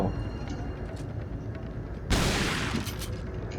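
A shotgun blast in the Resident Evil 4 video game, a single sudden loud boom bursting over a noisy game soundscape and then decaying.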